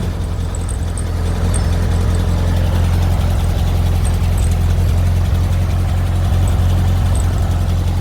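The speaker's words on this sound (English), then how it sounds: "Can't kill these old VW engines." An old VW engine idles steadily with a low, even rumble, close and continuous with no talk.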